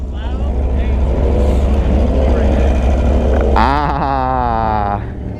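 A Harley-Davidson motorcycle runs close by with a loud, steady engine rumble. Near the end it rises into a brief revving surge, then cuts off. A voice speaks over the engine.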